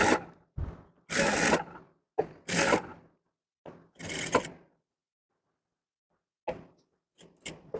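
A sewing machine stitches a V-neck blouse in short, separated bursts of rapid mechanical whirring, with pauses between runs, close and clear.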